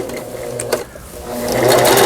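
Singer 3860 home sewing machine running a quilting stitch, its close motor whir and needle chatter dipping briefly, then speeding up and growing louder toward the end.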